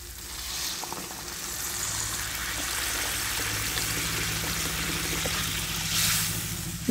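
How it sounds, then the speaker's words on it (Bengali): Hot water poured into a potato and egg curry in a hot pan, a steady loud hiss and bubbling sizzle that swells near the end, with no speech. "এখন আমি গরম জল দিয়ে দেবো।"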